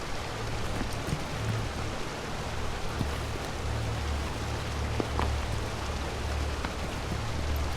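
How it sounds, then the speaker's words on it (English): Steady rushing waterfall in The Last Door: Season 2, a continuous even hiss of falling water with no voices over it. "Stand beside a waterfall."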